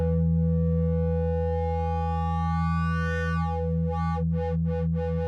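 A steady electronic tone from the Ableton Drift synthesizer oscillator, with a low fundamental and stacked harmonics, its upper overtones sweeping and then pulsing in quick wobbling bursts.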